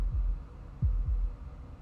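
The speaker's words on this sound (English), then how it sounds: "That was the sound of a heartbeat," Low, muffled heartbeat thumps in the game Slay the Princess, three or four soft beats in a slow irregular pattern over a dull ambient rumble, with no talk.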